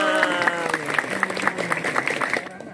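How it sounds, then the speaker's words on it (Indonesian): Applause fills a school literacy event, a steady dense patter of many hands clapping, with children's voices calling out over it throughout before it fades near the end. "Tepuk tangan."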